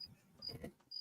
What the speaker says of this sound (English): You can hear crickets, yeah, they're just everywhere now.